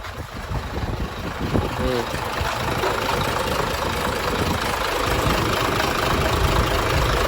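A used Isuzu Forward truck with a 240 PS turbocharged engine runs at a smooth, steady idle. The engine drone is continuous and fairly loud throughout, with no talking over it.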